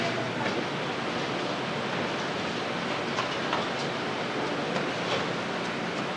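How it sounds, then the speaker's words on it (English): A model train runs on a club layout's tracks, giving a steady, continuous rolling rumble with faint rhythmic clicks throughout, fairly soft and unbroken with no talk. "Here comes the choo-choo."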